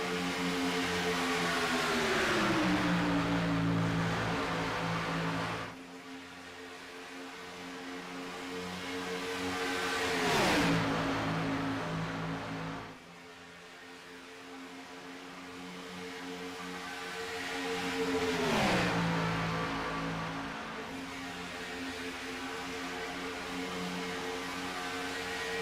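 Stock cars racing in a pack at Talladega in a racing game, a steady loud engine drone with layered tones that rise and fall as cars sweep past, swelling twice to a close pass-by before dropping again.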